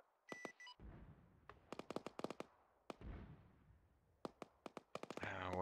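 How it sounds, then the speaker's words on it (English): Mortar impacts and gunfire crack out in a military video game, sharp bursts scattered irregularly with some rapid clusters, loud against a quieter background, ending in a denser rumble. "What are they bringing mortars in on now? Where's that impact at?"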